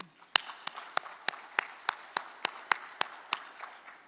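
Sparse, evenly spaced single claps at an opening session of a capital conference, about a dozen sharp hand claps in a steady rhythm, fairly faint and with no talk over them.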